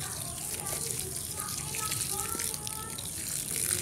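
Compost leachate poured onto a grape plant gives a steady gush of liquid splashing onto soil and leaves, close and continuous, while voices talk over it, including a child's.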